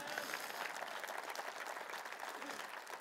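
A church congregation applauds during a Sunday sermon, a steady, dense wash of clapping heard from a distance at low volume and continuing evenly throughout.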